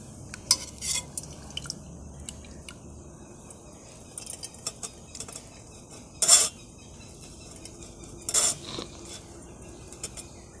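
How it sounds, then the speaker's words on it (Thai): Carunda fruit is mashed in a bowl to press out its red juice, heard as scattered soft clinks and scrapes with two sharper knocks against the bowl in a quiet room. "แล้วเดี๋ยวเราก็ยีบดในนี้นะเห็นไหมแล้วจะมีน้ำแดงๆลงไปเห็นไหมคะ"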